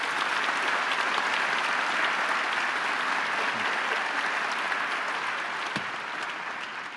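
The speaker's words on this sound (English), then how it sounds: "would you just give him a round of applause here?" An audience at an interview event applauds for a World Vision president with dense, even clapping throughout, fading slightly toward the end.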